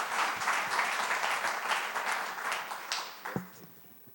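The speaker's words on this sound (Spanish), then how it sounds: "vamos a darle un aplauso a Dios" Church congregation applauds in praise to God during a Spanish-language service, dense sustained clapping from many hands that gradually fades, with a voice briefly heard near the end.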